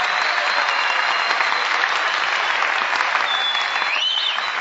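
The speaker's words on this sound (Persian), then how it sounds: "تشویق بفرمایید." An audience at a comedy show applauds, a dense, even wash of clapping that holds steady and loud throughout.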